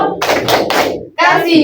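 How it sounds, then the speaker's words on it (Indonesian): Classroom of students doing the rhythmic 'tepuk wow' clap in a microteaching lesson: loud, close, sharp claps in a quick patterned run, a short pause, then another burst. "Kita kasih tepuk wow buat semuanya."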